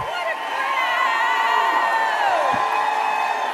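A large rally crowd in Phoenix, Arizona cheers and whoops continuously, with shouts and high voices rising over a sustained roar at close-to-mid distance.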